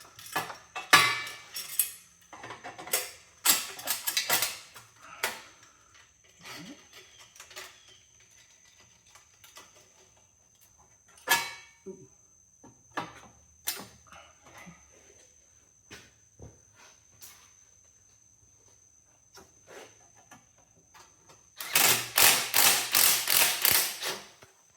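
Metal clanks, clicks and ratcheting turns sound as a V-band exhaust clamp is fitted and tightened on a Volkswagen GTI, scattered sharp taps and scrapes with quiet gaps, ending in a louder burst of rapid wrench ratcheting.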